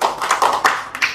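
Hands clapping from an audience at a preacher's gathering, a short patter of overlapping claps with a few sharper accents, close and fairly loud.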